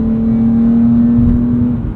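A 2022 BMW M3 with a manual transmission holds a steady exhaust drone around 4,000 rpm, a sustained resonant hum heard from inside the car, close and loud with no talking.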